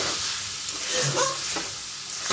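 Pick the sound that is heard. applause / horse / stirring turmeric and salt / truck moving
stirring turmeric and salt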